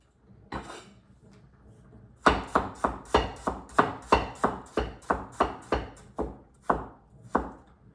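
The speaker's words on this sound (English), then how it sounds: "I try to cut it thinner, so easy to be cooked." A knife chops celery and potatoes on a cutting board, with about fourteen sharp, evenly spaced chops. They come close and clear after a single earlier cut, and no one talks.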